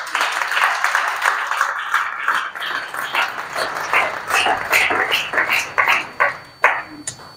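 A church congregation raises loud voices in acclamation, with bursts of clapping and shouts building into a dense, lively roar that swells and then fades near the end.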